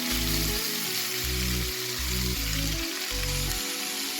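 Mutton fried rice frying in a pan, a loud continuous sizzle close up, broken by a low rhythmic rumble from stirring or tossing in regular pulses.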